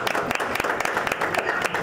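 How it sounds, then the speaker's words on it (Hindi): A crowd at a Bhojpuri film launch ceremony breaks into loud, dense applause, many hands clapping together in a close, sustained burst with sharp individual claps standing out. "एक जोरदार ताली प्लीज।"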